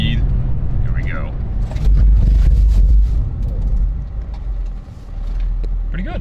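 An Acura TL with upgraded brakes speeding up and braking hard on gravel, a close rumbling engine and tire crunch swelling then easing off, with someone talking over it.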